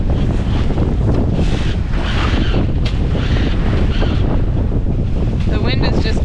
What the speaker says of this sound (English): The wind is just continuing to gust.